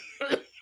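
A single close cough from a man with a cold, right up at the microphone, a short throaty burst followed by a smaller second cough.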